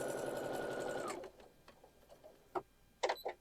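A sewing machine stitches a quilt block in a fast, steady whir for about a second, then stops, leaving only faint clicks and light handling sounds.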